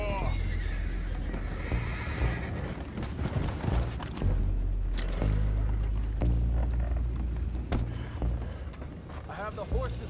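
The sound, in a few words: horses neighing and hooves, from the video game Red Dead Redemption 2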